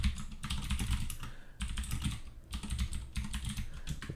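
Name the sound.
typing code on a computer keyboard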